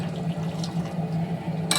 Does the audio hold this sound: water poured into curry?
yes